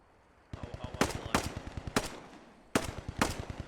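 Rapid machine-gun fire in a video game battle, repeated bursts of sharp evenly spaced shots with louder cracks between them, close and punchy, pausing briefly before resuming, with no talking.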